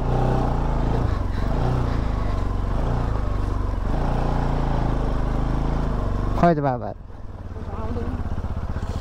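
A scooter engine straining as it climbs uphill toward Fulchowki, a loud continuous drone that drops sharply near the end, with a person speaking briefly over it.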